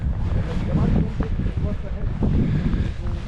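Strong gusting wind on Snowdon buffets a new GoPro, a loud continuous low rumble of wind noise on the microphone that surges and eases across the clip.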